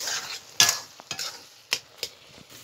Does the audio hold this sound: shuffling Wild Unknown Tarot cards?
no